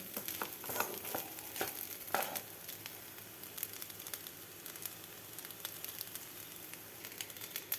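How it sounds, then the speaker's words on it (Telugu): Rice fries in a hot pan while being stirred, a continuous close crackling sizzle broken by scraping strokes of the spatula, busier at first and then settling to a steadier hiss. "బాగా వేగాలి ఏగి వరకు ఇలా తిప్పుకుంటూ ఉండాలి"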